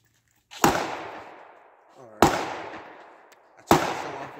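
Three sharp pistol shots from a small XD handgun fired at a target about 50 yards away outdoors, each loud crack trailing into a long echoing decay, spaced roughly a second and a half apart.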